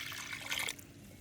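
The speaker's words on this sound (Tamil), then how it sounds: "தண்ணி விட்டு அவிய விடுவேன்." Water is poured over halved potatoes in a cooking pot in a home kitchen, a short rushing splash lasting under a second before it cuts off to quiet.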